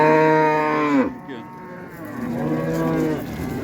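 A hybrid cow bellows a long, loud moo close by at a livestock market, the call breaking off and then resuming more softly in a second drawn-out low.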